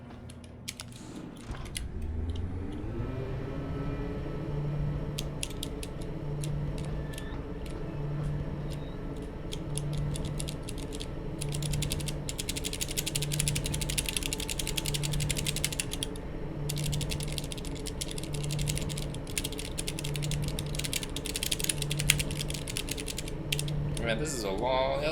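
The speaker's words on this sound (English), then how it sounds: "Man, this is a long elevator." Elevator ride in Deus Ex: Human Revolution: a mechanical whir starts, then a steady hum with a regular ticking pulse as the car travels, bursts of ratcheting clicks layered on top throughout.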